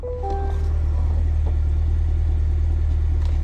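A Cadillac Escalade V, started by remote start and set to Tour drive mode, idles with its V engine. The exhaust gives a steady, loud, low rumble that stays even throughout.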